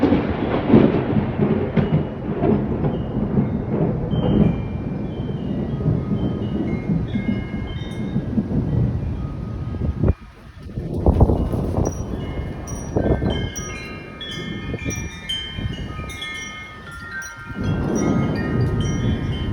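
Thunder from a huge thunderstorm with lightning and hail in Middleburg: long, loud rumbling rolls that continue for many seconds, ease briefly, then swell again. There is no talking.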